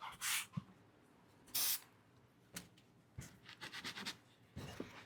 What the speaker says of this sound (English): take a little spray adhesive